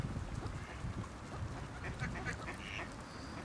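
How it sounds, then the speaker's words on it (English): Swans approaching across Royal Victoria Park give several faint honks over steady outdoor background noise. "Oh, I think the swans are coming."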